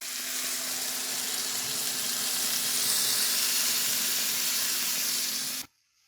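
Beef sizzles and hisses steadily in a hot pan as yogurt goes in for achari gosht, a loud, continuous frying crackle with no one talking that cuts off abruptly near the end.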